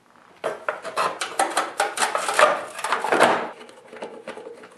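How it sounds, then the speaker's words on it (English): Metal belt cover being fitted back onto a snowblower: a string of clanks, scrapes and rattles of sheet metal against the housing, close and fairly loud, ending in a short quiet pause. "Now once it cools off, you can just reinstall the belt cover."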